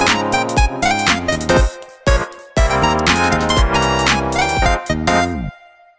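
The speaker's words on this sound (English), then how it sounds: "The synth that I'm gonna be using today is called Anna Mark, and it sounds a bit like this." Anna Mark software synthesizer playing a bright, harmonically rich melody in standard 12-TET tuning, a run of distinct notes with short gaps between phrases, alone and close, ending on a sustained decaying tone.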